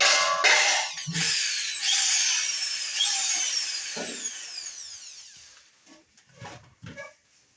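A power drill boring a hole for a motorcycle LPG gas fitting, a loud whining grind that sweeps in pitch for about five seconds, then stops and gives way to a few clanks of handling.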